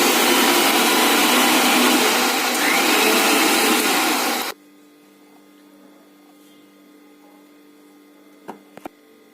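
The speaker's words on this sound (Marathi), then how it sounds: "आता परत एकदा मिक्सरला लावून घ्या." A kitchen mixer blending an Oreo shake with added sugar, a loud steady whirring drone close by for about four and a half seconds, then cutting off to quiet room hum and a few small clicks.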